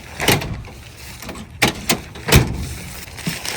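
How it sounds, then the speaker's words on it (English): Several sharp thuds in quick succession, like a Ford Mustang's door being shut and latched, with quiet outdoor ambience between the knocks. "Close door."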